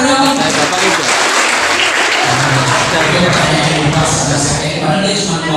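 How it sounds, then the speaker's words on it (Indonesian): Steady applause from a crowd fills the whole stretch, with voices talking over the clapping. "tepuk tangan dong"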